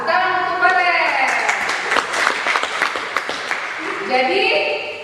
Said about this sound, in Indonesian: Ya, tepuk untuk Orange.